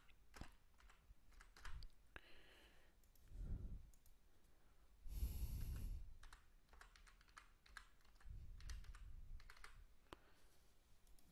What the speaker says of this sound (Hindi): ईमेल आईडी जो मैं टाइप करने जा रहा हूँ